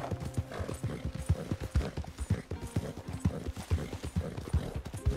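Horse hooves clip-clop steadily in the video game Red Dead Redemption, a quick galloping rhythm of soft thuds at moderate volume with faint background sound.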